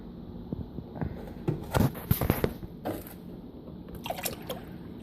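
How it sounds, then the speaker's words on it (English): Whole milk pours into a pot in uneven splashes and gurgles, with a few quieter drips before and after the main stream; no talking. "we're going to pour the milk in here"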